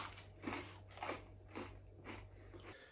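Parmesan crisps being chewed up close, five sharp crunchy bites in a steady rhythm about half a second apart over a faint low hum, with no talking.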